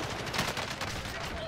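Shooter-game battle noise with continuous gunfire blended into a thick, steady roar over a short stretch, a voice faintly mixed in.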